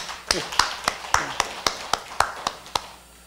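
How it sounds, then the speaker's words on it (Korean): Glory applause for God at a Sunday church service, heard as about ten evenly spaced, sharp claps in a slow, deliberate rhythm, close and distinct, with faint talk at the start. "우리 하나님께 영광의 박수 한번 올려요"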